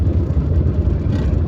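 A Tata Vista car with a worn wheel bearing gives off a steady low whining hum while driving, loud and continuous with road rumble, without talk.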